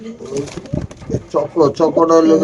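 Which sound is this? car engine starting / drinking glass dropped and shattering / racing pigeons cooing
racing pigeons cooing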